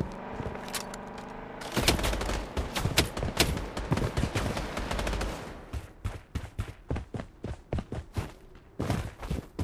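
Gunfire in the shooter game Blood Strike: loud, close bursts of automatic fire, a dense rattling stretch followed by rapid repeated single shots in uneven clusters, with no talk over it.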